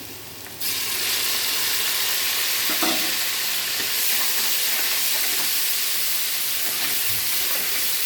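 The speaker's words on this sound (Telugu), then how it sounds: "ఇలా వేగితే చాలండి. ఇప్పుడు అల్లం వెల్లుల్లి పేస్ట్ వేసుకుందాము." Ginger garlic paste hits hot oil in a pan and sets off a loud, steady sizzle that jumps up suddenly and then holds as an even hiss, with a few faint stirring scrapes.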